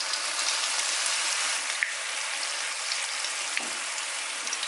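Green chillies and curry leaves fry in hot oil for Kerala-style Payyoli chicken, producing a loud, close, continuous sizzle with scattered pops and crackles.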